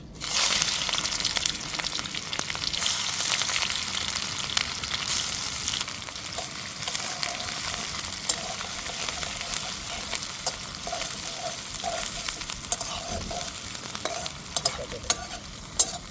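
Chopped onion with cumin, cardamom, cinnamon and cloves frying in a pan at a village outdoor cooking setup, a dense, continuous crackling sizzle close by, with occasional stirring knocks and no voices.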